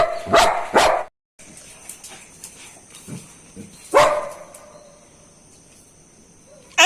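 Two dogs bark in short sharp bursts while squabbling over a toy, with a few loud close barks early and another volley midway, separated by quieter scuffling and faint whimpers.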